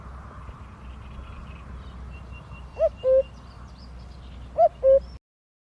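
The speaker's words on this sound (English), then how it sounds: "The cuckoo is calling in the forest." A cuckoo in a forest gives two clear two-note calls, the second pair a couple of seconds after the first, over a low background hum.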